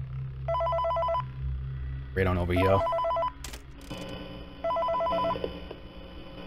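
A telephone rings in bursts in the video game Five Nights at Freddy's 3, with three electronic ring bursts spaced apart, a voice briefly speaking between them and low game ambience underneath.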